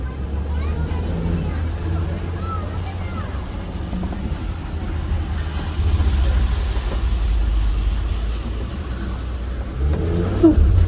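A safari truck drives over a bumpy dirt road, with a steady low engine rumble and rattling jolts throughout and a rougher surge near the end, under continuous talk.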